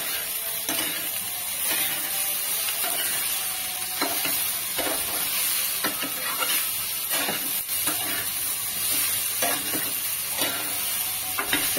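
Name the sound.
okra being flipped and fried in a pan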